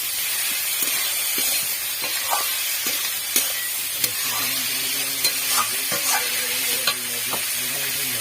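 Boiled figs frying and being stirred in a pan of spiced masala with cumin powder: a steady broadband sizzle with repeated scraping stir clicks, close and fairly loud, no talk.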